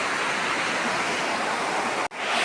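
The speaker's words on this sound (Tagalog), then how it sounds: "sinalod ko ng tubig dito kasi walang agas kami" Water pours or gushes steadily as rainwater is collected into a container, a loud continuous rushing noise that breaks off briefly near the end before resuming.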